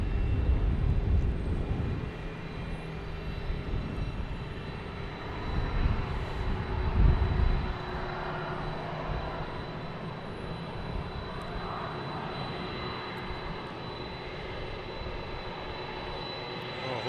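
An American Airlines E175 jet takes off at Boston Logan Airport, its engines a steady distant roar that swells early, then settles into a long, even rumble with no talk over it.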